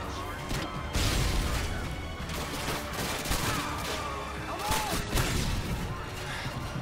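Enemy gunfire in Call of Duty Modern Warfare 2: repeated rifle and automatic bursts crack through a busy battle mix, with heavier impacts around the one- and five-second marks and a voice speaking along the way.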